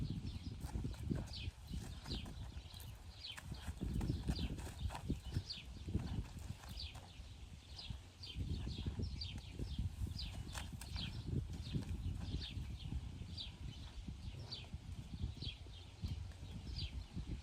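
Steady hoof clip-clop of a horse moving at a walk, with rhythmic, moderately close steps over a rustling background.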